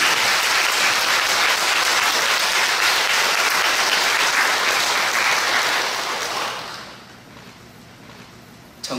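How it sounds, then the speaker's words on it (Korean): A large crowd at a religious service applauds loudly and steadily for several seconds, then the clapping thins out and fades toward the end. "큰 격려의 박수 한번 주십시오"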